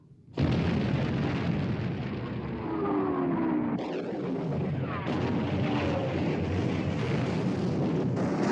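A ship's gun fires in a 1960s war film, making a loud roaring blast that starts abruptly and holds as a thick, rumbling wall of noise, with a second surge partway through.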